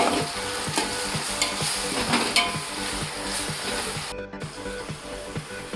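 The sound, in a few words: spice paste being mixed in a sizzling pan for mutton biryani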